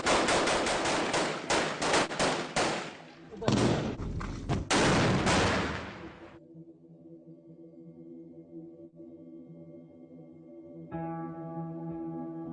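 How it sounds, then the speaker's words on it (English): Heavy gunfire in a street battle in Raqqa, Syria, as Kurdish fighters and IS gunmen exchange fire: dense bursts of loud, close automatic shots for about six seconds, then a quieter steady hum of vehicles or engines. "the Kurds throw everything they have at the gunmen. IS return fire."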